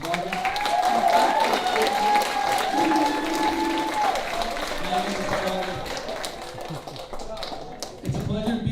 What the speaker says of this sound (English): So how about a round of applause for Mr. Barker?